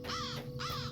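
Two harsh crow caws in the Lord of the Rings Online game, close and clear, each a drawn-out rasping call with a short gap between them.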